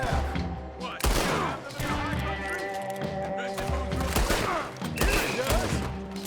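Gunfire in Red Dead Redemption 2, several bursts of rapid shots with sharp cracks over layered game sound, while people talk excitedly over the shooting.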